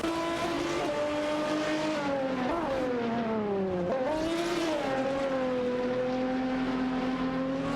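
A TVR Speed 12 GTS and a Maserati MC12 GT1 dueling in an AI-driven racing video game, their engines howling steadily and loudly, with pitch dips and swells as they shift and corner, and no voices.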